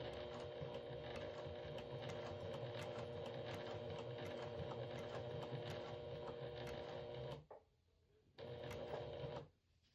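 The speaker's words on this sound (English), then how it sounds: "Take this to the machine and I'm only sewing the bottom angled edge." A sewing machine stitches along the angled bottom edge of fabric for a side organizer, running in a fast steady whir close by, then pausing briefly before a short final burst.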